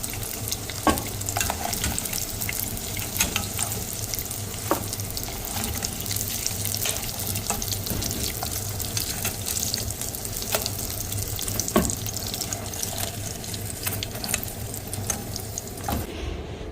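Meat and vegetable puli pitha fry in hot oil, giving a steady crackling sizzle with occasional sharper pops and utensil clinks as the pieces are turned and lifted out.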